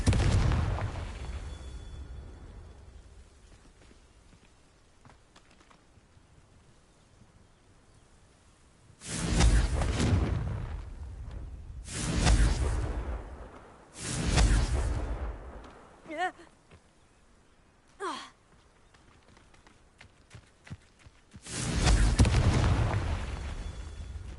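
Confringo fire spells cast in Hogwarts Legacy burst as loud fiery blasts, about four big explosive booms with whooshes plus two shorter sharp pops, spaced over a quiet low background.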